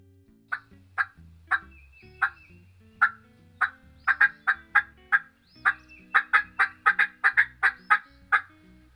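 A turkey mouth call imitates an excited hen cutting: loud, sharp, clucking notes come alone in uneven bursts, sparse at first, then quick clustered runs.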